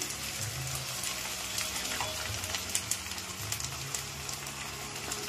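Ginger garlic paste and chopped tomato fry in a pan while cooking a Bengali goat meat curry with potato and papaya, giving a soft steady sizzle with light stirring scrapes, fairly quiet and without speech.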